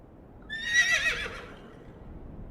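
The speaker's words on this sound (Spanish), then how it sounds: "El unicornio relinchó." A single high, quavering horse whinny used as a unicorn's neigh in a Spanish Witcher audiobook, rising sharply and fading over about a second against a quiet background.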